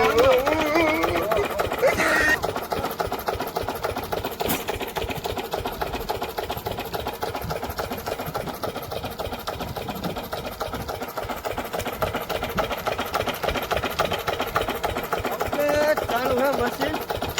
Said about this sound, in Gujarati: ચાલુ મશીન